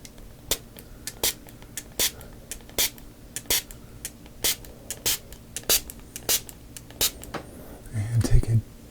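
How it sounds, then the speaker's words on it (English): A handheld spray bottle misting scent near the listener, with sharp, evenly spaced spritzes repeating roughly every half second, close and crisp, followed by a brief rustle at the end. "are you ready for the next spray?"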